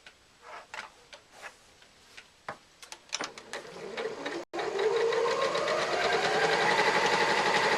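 A sewing machine backstitches a laptop bag seam. A few scattered taps and clicks lead into a steady, continuous run of fast, even needle chatter that stays close and fairly loud to the end.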